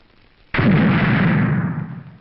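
A firecracker offering at a Kerala temple sets off a sudden loud blast followed by a sustained, rumbling roar of bursting that slowly fades over about two seconds, with no voices.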